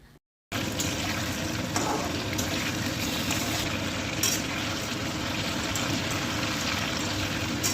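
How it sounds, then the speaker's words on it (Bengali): Chicken pieces fry in hot oil for a curd chicken dish, a loud, steady, close sizzle that starts after a brief quiet moment and continues unbroken to the end. "তেল ভালো করে গরম হয়ে গেলে এখানে চিকেনের পিসগুলো খুব ভালো করে ভেজে নিতে হবে।"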